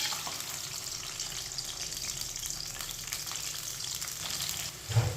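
Finely chopped onions fry in hot ghee for mash daal, giving a continuous crackling sizzle close by at moderate level, with a brief knock near the end and no talking.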